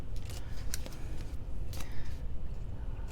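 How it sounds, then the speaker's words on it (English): Scissors trimming a handmade greeting card, with several short crisp snips and rustles of cardstock close by over a low background hum. "If you have a really big scissors, that's probably better for this job."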